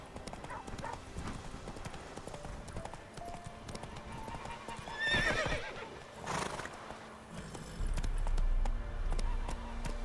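The horse Roach gallops in The Witcher 3, with rapid clip-clop hoofbeats running steadily and a sharp neigh midway, followed by a low rumbling hum near the end.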